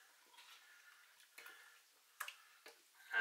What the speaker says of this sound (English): And then I'll just stir that all in